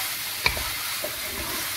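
Bell-shaped pasta is stirred through chicken fajita in a pan, giving a soft continuous sizzle with a single sharp clink of utensil on pan early on and faint scraping after, with no talk.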